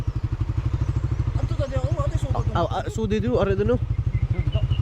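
A motorcycle engine putters steadily with a fast, regular pulsing thump throughout, close and loud, while people talk over it in the middle.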